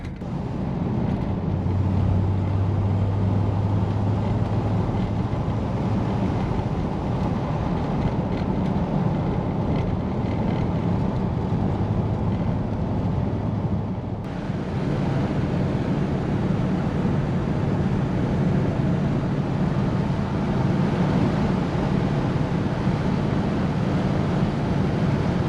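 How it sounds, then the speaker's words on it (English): Steady road and wind rumble from inside a moving 1953 Oldsmobile Super 88, with a continuous engine drone and a short dip in the noise midway. "Driving my 53 old Super 88."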